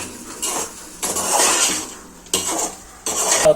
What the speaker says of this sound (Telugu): బాగా విస్క్ చేసుకోవాలి